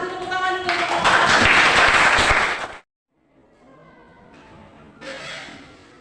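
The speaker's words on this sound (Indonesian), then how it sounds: "Kita kasih tepuk tangan dulu untuk" A classroom of students applauds, a dense burst of clapping lasting about two seconds that cuts off sharply. After a short silence, fainter noise follows and a brief second patter rises near the end.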